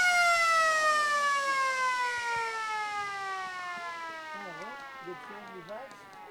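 A long, loud end-of-game siren at an under-15 Australian rules football match blares a steady tone that slowly fades, while people talk and shout underneath it.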